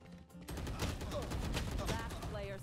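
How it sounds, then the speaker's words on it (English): Rapid automatic gunfire in the shooter game Valorant, a steady close rattle of shots running almost the whole time at fairly low level, with some game effects layered in. "These guns have no accuracy."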